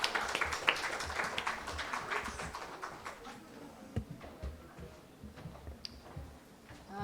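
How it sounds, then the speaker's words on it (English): Audience applause at a jury session event, clapping loudest at the start then thinning to scattered claps over a quiet room. "A huge round of applause for them"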